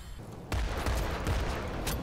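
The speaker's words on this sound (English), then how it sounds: "I shot that man" Liberator gunner fire in the Planetside 2 game: a sudden onset of dense, continuous gunfire bursts with sharp cracks, loud and close, sustained without pause.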